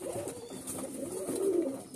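Pigeons coo in low, soft, rolling murmurs, a close, steady stream of throaty calls with no talking.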